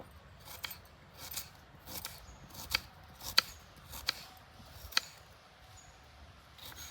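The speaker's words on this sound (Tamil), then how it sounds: "மிளகாய் வெங்காயம் தான் கட் பண்ணுறேன்" A knife cuts onions and chillies on a board, giving sparse, irregular sharp taps and clicks spaced about a second apart over a faint quiet background, with no talking.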